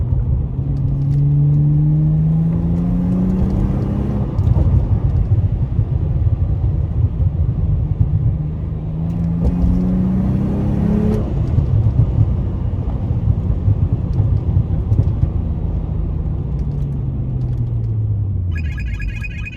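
Tuned 2006 Acura TL engine droning and rising in repeated revs, each swell ending in crackling exhaust pops, close and loud inside the car.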